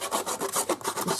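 Scissors blades scrape along a paper edge to distress it for an aged-paper keepsake, making a quick series of about eight rhythmic rasping strokes, close and fairly loud with no talking.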